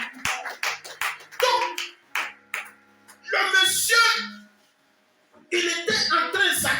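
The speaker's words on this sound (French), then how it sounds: "je veux que quelqu'un acclame Jésus" Church congregation clapping to acclaim Jesus: quick bursts of hand claps come in rhythmic clusters, fairly close, alternating with a preacher's loud impassioned speech and shouts.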